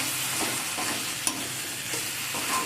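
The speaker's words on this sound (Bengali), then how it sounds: "দিয়ে সব কিছুকে একসাথে ভালো করে কষিয়ে নেব।" Ground spices being sautéed with tomato in a hot pan, a continuous close sizzle with soft scraping stirs, steady and even, with one brief clink.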